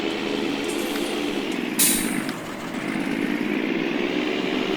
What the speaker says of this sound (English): I love the pneumatic sounds with the tractors. The pneumatic pump sound is phenomenal sound effects sometimes in this game.